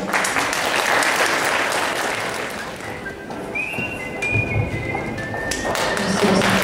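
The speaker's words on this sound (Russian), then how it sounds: "Аплодисменты" An Easter concert audience in Glazov applauds performers, a broad crowd of clapping that eases slightly mid-way, with a few whistles cutting through before the clapping swells again.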